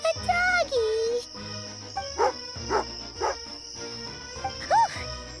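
An angry dog, Tagarin, in Genshin Impact gives a few short growling, barking bursts between stretches of tinkling game music and chatter, close and moderately loud.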